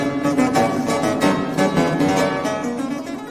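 Bach's Chromatic Fantasia and Fugue played on keyboard, a descending bass line in octaves moving stepwise beneath sustained harmony, steady and fairly loud with no talking.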